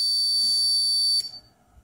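A piezo buzzer on an Arduino Nano RFID and PIR alarm emits one steady, piercing tone for just over a second as the system arms, then cuts off abruptly into near silence.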